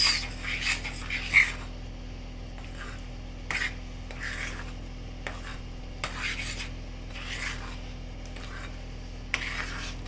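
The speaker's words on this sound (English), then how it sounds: "I'm going to add the dry fruits and give it a quick mix" A spoon scrapes and rasps in a bowl, folding dry fruits into eggless almond walnut cake batter, with soft intermittent scratching strokes over a steady low hum.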